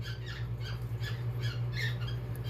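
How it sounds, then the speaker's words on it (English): A bird squawks repeatedly in shrill, rhythmic bursts over a steady low electrical hum, somewhat distant and fairly faint. "My bird is making so much noise."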